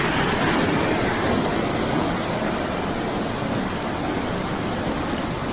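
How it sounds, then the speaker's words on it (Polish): Loud, steady roar of rushing water at the Marmore Falls in Terni, a dense unbroken wash of noise filling the whole clip with no voices. "ta woda robi ogromny hałas"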